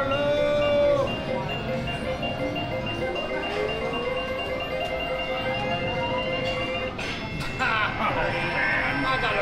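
Monte Carlo slot machine reels spinning in a slot game, a steady run of bright electronic chimes and tones that rise and fall over several seconds at a constant loud level.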